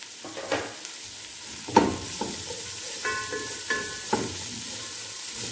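A spoon stirs capsicum and cabbage into a hot and sour chicken soup as it simmers in a pot. Scrapes and clinks come several times against a soft, steady sizzle and hiss.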